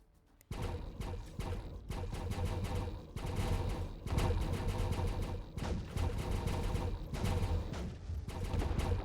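Space battle between ships in Distant Worlds 2, dense rapid volleys of weapons fire rattling almost continuously after a sudden start, loud and busy with no talking.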